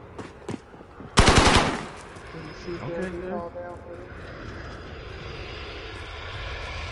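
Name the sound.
VTOL aircraft flying in, Call of Duty video game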